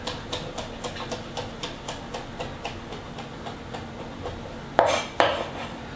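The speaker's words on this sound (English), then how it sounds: "Again, I'm going to chop that very fine." Fresh mint leaves chopped finely with a knife for laab, a quiet steady tapping of the blade on the board at an even rhythm, then two sharper knocks near the end.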